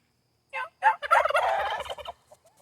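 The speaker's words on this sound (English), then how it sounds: "What's up, turkeys?" Turkeys gobble outdoors: two short calls come first, then a long, loud, rattling gobble from close by, with no other sound around them.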